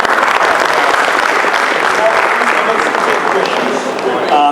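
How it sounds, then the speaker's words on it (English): An audience at an economics of sustainability talk applauds a speaker, a steady, loud wash of many hands clapping throughout, with a voice starting up near the end. "So a round of applause for Deepak."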